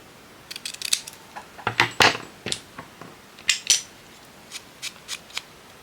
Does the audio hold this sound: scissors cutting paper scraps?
yes